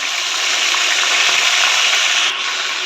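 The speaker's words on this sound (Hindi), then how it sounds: "इसको अच्छे से भूनना चाहिए" Ginger garlic paste and tomatoes fry in a pan for chicken pulao, a close, steady sizzle that carries on evenly with no voices over it.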